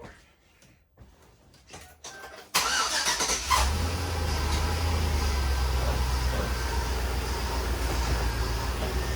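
Chevrolet Tahoe engine starting in a garage, a few quiet clicks and cranking sounds, then the engine catches abruptly and settles into a steady, fairly loud idle rumble.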